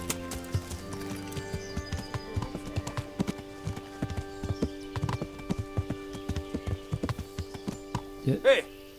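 Horse hooves clip-clop steadily through a stretch of Kingdom Come Deliverance gameplay, with a neigh near the end and game music playing throughout, all mixed under someone speaking German.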